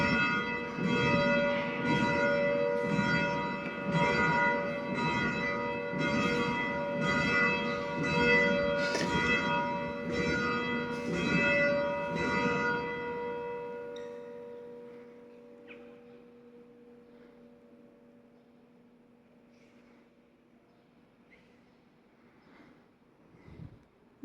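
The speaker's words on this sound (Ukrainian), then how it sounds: "Дзвони механічні в церквах Італії." Mechanical church bells in an Italian church tower ring in a steady, loud rhythmic peal for about fifteen seconds, then stop and leave a lingering hum that fades into quiet.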